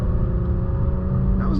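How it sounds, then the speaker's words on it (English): An Infiniti Q60 Red Sport pulls away hard from a traffic light, its engine a loud, steady low rumble heard from inside the cabin that swells throughout. "I'm gonna take off at the light"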